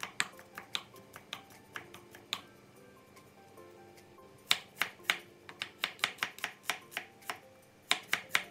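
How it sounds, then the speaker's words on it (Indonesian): A knife chops garlic-and-spice seasonings on a cutting board in quick, uneven bursts of sharp clicks, with pauses between the runs. The chopping is close and there is no talk. "Untuk bumbunya cukup digeprek dan diiris-iris."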